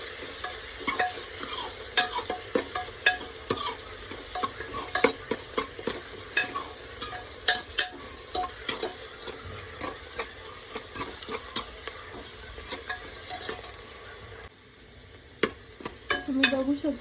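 Onion and chopped green chilli sauté in a pan for veg pulao, a steady close sizzle broken by frequent scraping clicks of a spoon stirring, and a brief quieter lull near the end.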